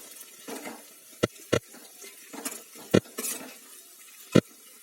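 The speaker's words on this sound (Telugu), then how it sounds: "ఆనియన్స్, చిల్లీస్, కర్రీ లీవ్స్ బాగా డీప్ ఫ్రై అయ్యే వరకు గోల్డెన్ బ్రౌన్ కలర్ వచ్చే వరకు ఇలా వేయించుకోవాలి" Onions, green chillies and curry leaves deep frying in hot oil, a soft sizzle running under repeated sharp clacks of a spoon stirring against the pan, close and moderately loud.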